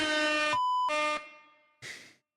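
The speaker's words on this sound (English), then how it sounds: "Oh, there's an air horn?" Air horn sound effect: loud sustained blasts, two long ones separated by a short gap and then a shorter, fainter third blast, with silence at the end.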